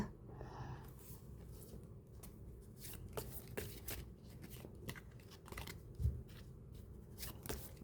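Tarot cards are shuffled in a quiet room, a soft run of papery riffles and light slaps that repeat irregularly for several seconds.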